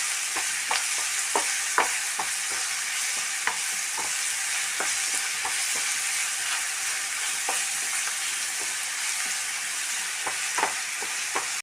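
Sliced onions sauté with curry leaves in a pan for an egg thoran, a loud continuous sizzle broken by repeated scraping taps of a spoon stirring.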